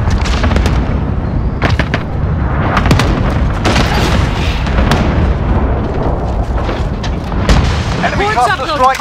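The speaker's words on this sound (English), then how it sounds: "Enemy cluster strike incoming! Take cover!" Cluster strike explosions from Modern Warfare gameplay, a close, heavy barrage of booms and blasts in rapid succession with shouted voices over the din.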